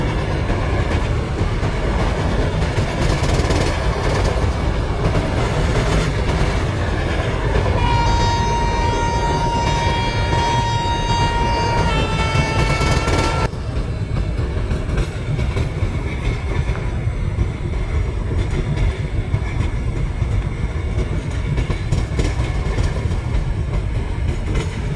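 Chennai–Nizamuddin Rajdhani Express (12433) running on rails near Arakonam Junction, a steady loud rumble of wheels and carriage noise throughout, with a brief tonal whine in the middle before the sound drops slightly and continues alone.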